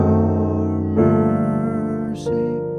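Piano plays sustained gospel jazz chords from Great Is Your Mercy, moving through passing diminished sevenths: a held chord, a new chord struck about a second in, and another near the end, clear and close.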